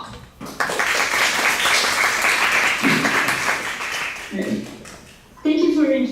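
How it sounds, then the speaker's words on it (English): An audience at a Taipei data science conference claps to welcome a speaker, a sustained round of applause lasting a few seconds before it tapers and a voice begins talking. "So let's give Bastiane a warm applause and welcome her talk."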